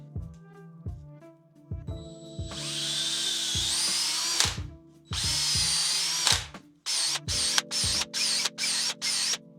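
A power drill turning a Mudhole reamer through a fishing rod grip whines in repeated bursts, first long runs and then short rapid pulses, with clicks and taps between them.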